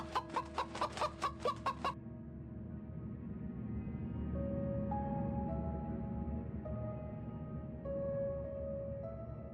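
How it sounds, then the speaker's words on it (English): Rapid, evenly spaced clucking bursts from a character in the PC game Rosewater open the clip, about eight sharp pulses in two seconds, then give way to a steady low game ambience with soft tonal notes. "let's make him cluck like a chicken"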